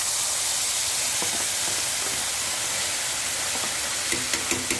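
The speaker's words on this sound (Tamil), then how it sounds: "இப்போது கடுகு வெடிக்க ஆரம்பித்தாச்சு" Mustard seeds sizzle and splutter in hot oil in a pan on a low flame while a Tamil garlic and green chilli thokku is cooked, a constant loud hiss with a few sharp pops near the end.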